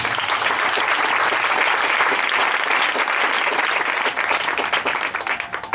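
A congregation at a Sunday church service bursts into loud, sustained applause that fills the room, thinning slightly toward the end, with no talk over it.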